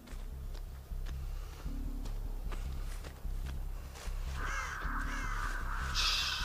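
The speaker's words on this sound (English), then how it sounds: "Shut up, crows." Crows caw repeatedly in the horror game Dead by Daylight, harsh calls rising over a low ambient game drone, with soft footstep-like thuds in between and a brighter burst of calls near the end.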